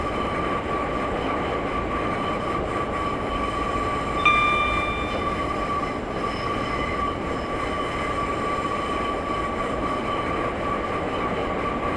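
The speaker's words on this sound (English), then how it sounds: "I have just shut off the power, and I'm now allowing the train to coast" A Class 142 diesel train in Train Simulator 2015 coasts with power off on the Middlesbrough to Newcastle route, producing a steady, even rolling rumble of wheels on track with a brief high tone partway through.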